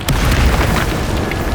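A Bombarda spell explosion goes off in Hogwarts Legacy, a loud, heavy booming blast with a sustained rumbling roar that fills the whole moment without letup.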